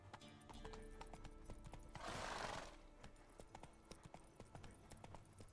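Roach, the horse in The Witcher 3, gallops in a steady clip-clop of hooves that runs the whole way through, with a brief rushing burst in the middle and faint background noise.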